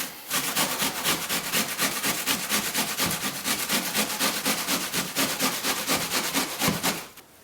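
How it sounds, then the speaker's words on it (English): An onion is rubbed back and forth over a kitchen grater in quick, even strokes, a loud rhythmic rasping that runs for several seconds before stopping, with no talking. "So we're going to grate this onion right now."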